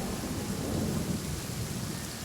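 Heavy rain pours steadily in Genshin Impact while deep thunder rumbles beneath it, a dense, continuous wash of sound with no voices.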